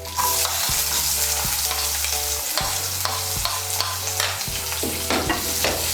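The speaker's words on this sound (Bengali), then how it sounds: "পেঁয়াজ কুচিটাকে তেলের সঙ্গে মিশিয়ে নেব, মিশিয়ে নিয়ে লাল করে ভেজে নেব" Chopped onion sizzles steadily in hot oil for a Bengali rohu fish curry, with a spoon stirring and scraping the pan several times over the continuous frying hiss. The sound is close and loud, and no voices are heard.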